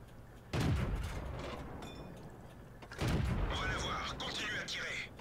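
Tank guns fire in the video game World of Tanks, including an AMX 12t battle: two heavy booming shots about two seconds apart, each followed by rumbling game noise, with someone talking over the action.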